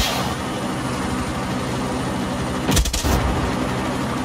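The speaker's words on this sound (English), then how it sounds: "Are you shooting?" A brief burst of heavy gunfire in the Far Cry 6 video game cracks out partway through, loud against a constant rumbling engine-like background, with no voices.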